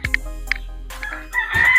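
Chickens on a small chicken farm in Assam give a few sharp, close clucks, then a louder drawn-out call at the end.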